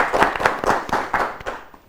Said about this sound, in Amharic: አጨብጭቡላችሁ።